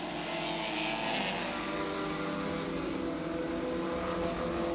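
Vintage race cars, Coopers, a BMW and an Alfa, racing at the 1990 Grand Prix de l'Age d'Or; a sustained loud engine roar with shifting pitch as cars rush past on the circuit, no voices.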